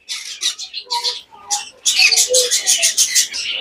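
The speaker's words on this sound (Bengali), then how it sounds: "এখানে দেখতে পাচ্ছেন পাইনঅ্যাপেল কুনুর এবং ইয়েলো সাইড কুনুর।" Pineapple conures and yellow-sided conures at a breeding setup give a run of sharp, close chirps and squawks, sparse at first and then a dense, loud burst of rapid calls.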